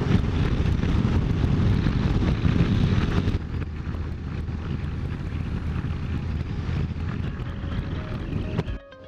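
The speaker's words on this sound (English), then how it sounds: "very windy" Heavy wind on a Scottish coast near Ullapool buffets the microphone with a loud, low rumble that eases a little partway through but keeps roaring to the end.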